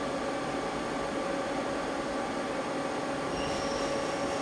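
A Mazak CNC lathe spindle runs steadily at about 300 RPM, giving a continuous, even hiss-like machine drone throughout with no breaks.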